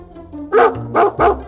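A dog barks three times in quick succession, loud and close, each bark short and sharp with brief gaps between, in a Hindi children's animated story about a mango.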